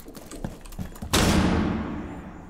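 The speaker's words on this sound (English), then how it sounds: "Throwing flashbang!" A flashbang grenade goes off in the video game Rainbow Six Siege: a few sharp gunshots, then a sudden loud blast that slowly rings out and decays over the following seconds.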